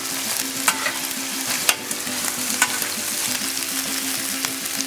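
Hamburger meat and chorizo sausage sizzle on a Blackstone griddle, a steady crackling hiss with occasional sharp pops and scrapes, close and continuous throughout.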